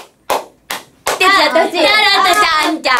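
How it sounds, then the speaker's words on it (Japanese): Several sharp hand claps at the start, then a burst of singing-like voices, likely members of a Japanese idol group rehearsing the rhythmic clapping part after a song's first chorus; claps close and bright, voices carrying on over them. "一サビの後の手拍子"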